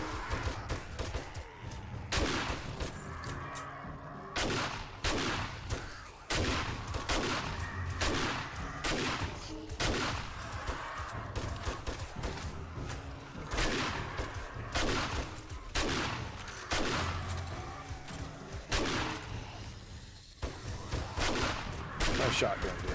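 Repeated shotgun blasts during Horde Night in the game 7 Days To Die, loud sharp shots at an irregular rhythm across the span, with some thuds and occasional talk mixed in.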